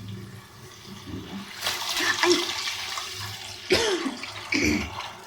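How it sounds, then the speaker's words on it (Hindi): Water is poured from a vessel into a pot of rice being cooked for a Punjabi black chickpea and rice dish, in a few splashing gushes with short pauses between them. "अब इसमें हम पानी शामिल करेंगे।"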